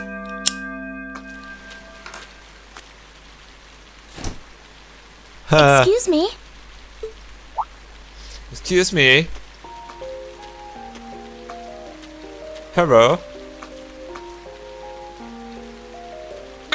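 Rain in the video game Trails of Cold Steel, a steady soft hiss of falling rain beneath game music, with short character voice clips speaking over it.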